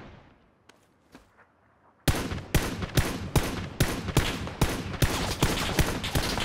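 Rapid gunfire in PUBG erupts after a quiet stretch of two faint pops, then a sustained burst of loud, closely spaced shots that keeps going with no talk over it.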